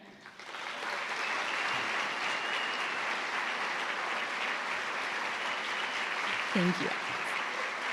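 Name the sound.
lecture audience applause for the musician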